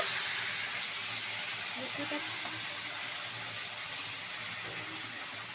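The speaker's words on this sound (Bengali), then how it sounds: "এখন তেলের মধ্যে তেল জিরা সরষা, এখন মশলা ঢেলে দিচ্ছে" Cumin, mustard seeds and spices sizzling in hot oil for besan gadda sabji, a steady close hissing spatter throughout, with faint clinks and background voices.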